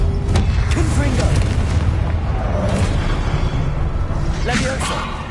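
Confringo spell explosions in the Hogwarts Legacy video game: loud, heavy booms and blasts with whooshing bursts, layered over dense, continuous game noise with voice-like sounds in the mix.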